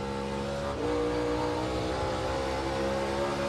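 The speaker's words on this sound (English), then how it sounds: "Heard Austin Dillon shift right there, Tony." A NASCAR Cup Series car on the Bristol dirt track roars steadily nearby, with a brief dip and jump in pitch as it shifts gear partway through.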